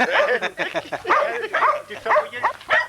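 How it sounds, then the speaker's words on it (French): A dog in a French village in summer barks in a series of sharp, close bursts, roughly one every half second, mixed with people talking. "Il a un nom bien gentil pour un chien qui est méchant."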